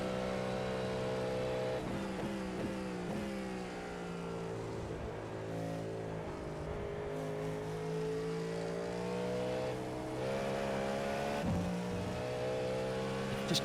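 LMP3 prototype race car in iRacing revving hard, its engine pitch climbing and dropping repeatedly through gear changes and braking, loud and close with no talking.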